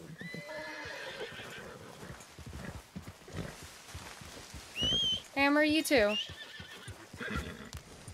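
Horse in Red Dead Redemption 2 neighing loudly in a long, quavering whinny, with clip-clopping hooves underneath and someone talking over the game sounds.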